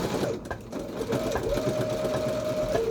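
A sewing machine runs a zigzag stitch along an elastic top hem, humming continuously and fairly loud at close range, with a brief slowdown and restart partway through.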